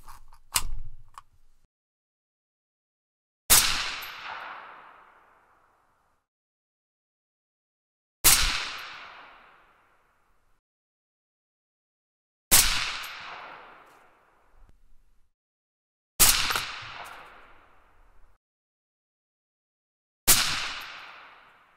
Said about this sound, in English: So against my better judgment, I'm going to shoot at least one more.